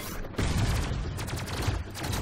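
Gunfire from a player-built helicopter in the video game Robocraft comes as a dense, continuous fusillade of rapid shots after a brief quieter start, loud and close, with no voices over it.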